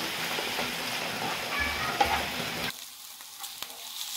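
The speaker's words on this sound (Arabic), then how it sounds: "هناخد البصل المبشور عليها وادلق ادلق ونقلب" Grated onion and minced meat fry and sizzle in hot oil as they are stirred in a pan, with a dense hiss that suddenly drops to quieter crackling partway through, near and without speech.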